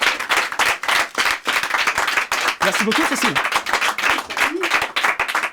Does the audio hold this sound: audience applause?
yes